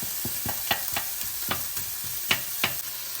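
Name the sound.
onions frying in a pan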